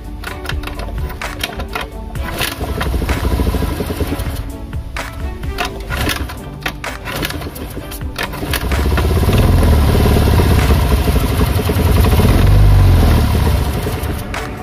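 An automatic scooter engine runs with its valve cover removed, giving a steady mechanical clatter and ticking over an idle hum that grows louder and fuller partway through, with no talking.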